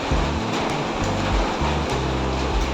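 Water or broth is poured into a pot of cooking curry, giving a close, continuous splashing and sloshing wash with uneven low gurgles throughout and no voices.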